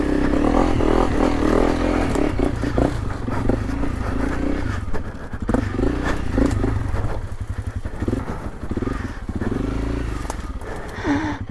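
A motorbike engine roars at full throttle while climbing a steep, crumbly slope off the tourist routes on Koh Lanta, loud and close throughout with a rough, pulsing drone, rattling and clatter from the loose ground.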